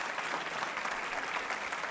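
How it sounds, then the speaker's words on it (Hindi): Audience applause for a quiz contestant at a college quiz show, a dense, steady wash of many hands clapping with no break, moderately loud and filling the room. "जोरदार तालियां बजाइए"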